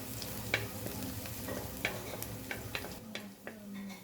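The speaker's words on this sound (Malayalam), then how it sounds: "ഇനി പച്ചമുളക് എണ്ണയിൽ കിടന്ന് നന്നായിട്ട് മൂത്ത് ആ പച്ചപ്പൊക്കെ ഒന്ന് മാറി വരണം" Green chillies and curry leaves frying in oil for a Kerala sadya inji curry, with a steady sizzle broken by the clicks and scrapes of stirring.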